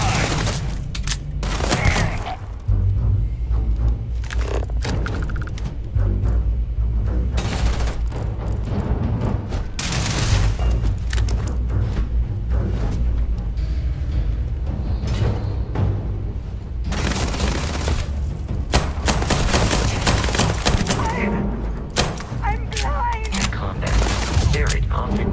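Enemy gunfire in the video game Starfield, dense volleys and bursts of shots continuing through most of the stretch, loud and close with booming impacts, and a voice talking over it.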